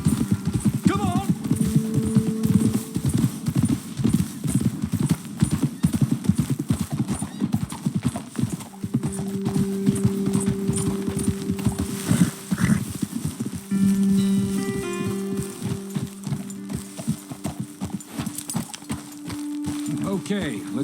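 Horses ridden in Red Dead Redemption 2 clop along steadily for the whole stretch, with occasional whinnies and snorts, while characters talk over the hoofbeats.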